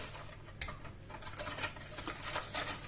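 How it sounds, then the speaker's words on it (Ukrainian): Sugar and egg whisked by hand with a wire whisk in a bowl, soft quick ticking and scraping strokes, faint and close, with no talking. "Спочатку цукор я збиваю з яйцем"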